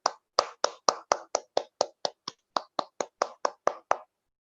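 Roughly seventeen distinct hand claps ring out at an even, brisk pace, crisp and close as though from one or two people in a small room, then stop, with no talk around them.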